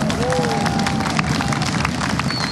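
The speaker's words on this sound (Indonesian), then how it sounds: "tepuk tangan sekali lagi yang meriah untuk Mahdi dari Surabaya" A television studio audience applauds a contestant amid crowd noise, a continuous dense clapping with some cheering and a voice faintly underneath.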